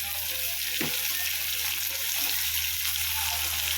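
Tomatoes frying in a clay pot for dried fish curry, a dense, even sizzle close by with a couple of soft stirring knocks and no talking.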